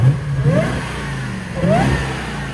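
A 2005 Jaguar XK-R with a supercharged 4.2-litre V8, X-pipe and Vibrant bottle resonators revs twice in quick succession, the supercharger whine climbing with each loud, close blip.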